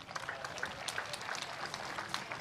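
Spectators at the 2012 Lawn Bowls World Championships clap politely after a men's singles semi-final shot, a light scattered patter of hands with no one talking.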